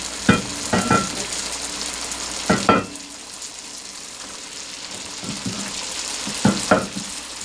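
Bread dumplings deep-frying in hot oil give a steady crackling sizzle, punctuated by several louder bursts of bubbling as pieces are added or stirred, close and with no talking.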